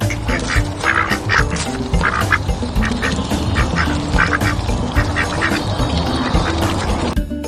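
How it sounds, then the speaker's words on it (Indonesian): Repeated nasal quacking from a toy duck during an unboxing, steady rhythmic quacks over a busy, loud background, fairly close and continuous throughout. "Seekor bebek."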